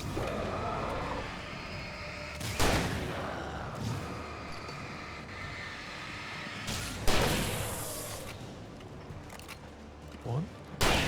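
Shotgun blasts in the video game Alan Wake Remastered: two loud, sharp booms a few seconds apart over a busy game soundscape, with smaller bangs trailing near the end.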